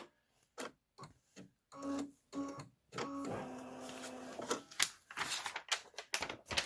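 A home embroidery machine stitches a candy corn quilt block in short bursts of rapid mechanical tapping and whirring, separated by brief pauses, close and fairly quiet.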